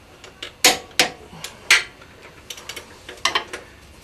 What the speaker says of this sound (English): The torque wrench will go click when it's ready.